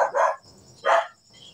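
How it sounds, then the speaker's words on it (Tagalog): A dog barks twice, sharp and fairly close, with a short pause between barks over a faint background hiss. "Nakatunog yung aso."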